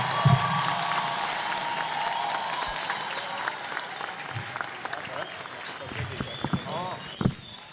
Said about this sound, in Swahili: Shangwe na vigelegele kwake Mheshimiwa Rais, makofi mazuri.